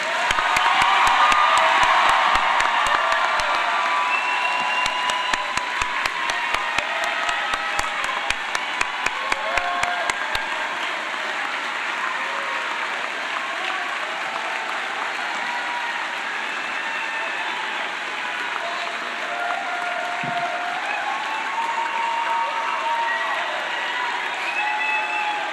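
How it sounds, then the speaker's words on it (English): Graduation crowd at a high school ceremony breaks into sustained applause and cheering, with scattered whoops and children's shouts over dense clapping that stays loud and steady throughout the stretch. "Please join me in giving these graduates a round of applause."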